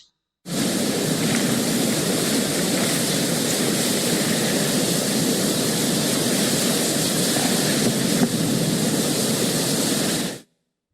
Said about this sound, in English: Sound of water at Cauldron Snout.